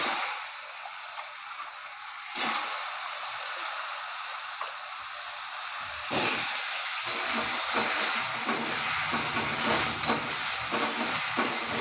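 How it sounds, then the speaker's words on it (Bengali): Cut potatoes frying in hot oil in a Bengali kitchen, a steady hissing sizzle with a couple of louder bursts and faint clinks, no one speaking. "আলুগুলো ভেজে নেবো।"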